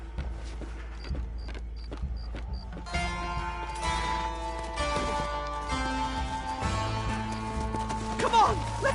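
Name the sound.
horses' hooves clip-clopping, from a video game set in Blackwater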